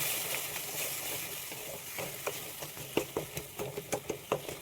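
A spoon stirs sugar and batasha through a chutney in a pan, with soft scraping and a run of light, irregular clicks and taps over a faint steady hiss, close but quiet.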